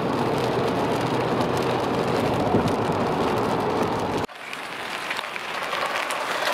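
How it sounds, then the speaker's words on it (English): Heavy rain pours onto a street on California Avenue in West Seattle, a dense, steady hiss and patter that fills the scene, with a sudden drop in level partway through before the downpour's wash continues. "It's raining pretty hardcore."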